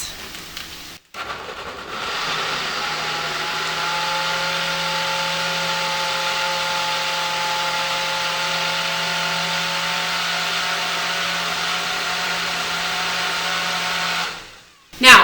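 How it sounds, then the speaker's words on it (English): A blender purees butternut squash sauce with a steady, loud motor whir that holds a constant pitch for about twelve seconds, starting after a brief click and ending abruptly. "I'm just gonna put on the lid and we're gonna puree this"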